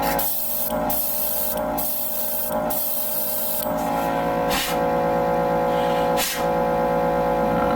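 An airbrush sprays paint onto a 1/144 HG Age-2 Gundam Normal plastic model kit, a steady close hiss with several brief bursts and pauses in the flow, alone with no talking.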